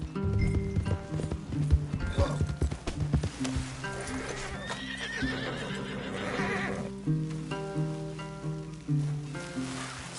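Horses in Red Dead Redemption 2 whinny and neigh over a steady clip-clop of hooves, with a rustling, game-like ambience and a faint musical tone underneath.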